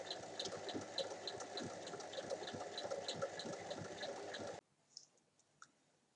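A sewing machine runs steadily, stitching pinned fabric layers along a zipper edge for a zero-waste pouch, with a fast even mechanical patter that stops abruptly near the end, followed by a few faint clicks.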